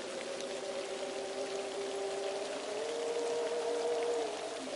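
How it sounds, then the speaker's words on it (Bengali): Steady rain pours in a Bengali cartoon, a constant hissing wash with a faint trickling tone, even and unbroken with no voices over it. "বৃষ্টি শুরু হলো কি হলো না"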